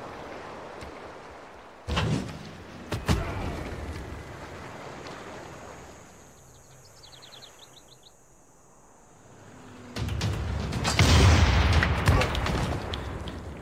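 Bombing explosions in the strategy video game Civilization come as two sharp booms, then a longer, louder rumbling blast after a quieter stretch. No one speaks.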